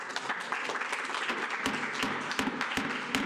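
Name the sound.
audience applause at planning commission meeting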